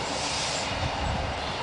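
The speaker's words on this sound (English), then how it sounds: "that train passing there." A train rolling past outdoors, a dense, loud broadband rumble and roar of rail cars with a steady wash of wheel noise throughout.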